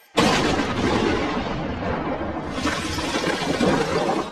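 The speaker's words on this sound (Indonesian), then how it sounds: "beruntung Bond selamat dari ledakan tersebut, kemudian mencoba menghubungi Madeleine." A loud, sustained explosion in a James Bond film with crackling, shattering debris roars for several seconds, swelling again toward the end.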